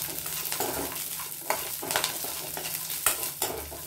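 Groundnuts dry-roasting in a hot pan for chutney, stirred with repeated scraping strokes and a soft continuous sizzle, close and moderately loud, with no talking.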